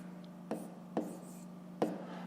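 Pen or marker writing fractions by hand on paper or a board, three short scratchy strokes spaced apart over a faint steady hum, close and quiet.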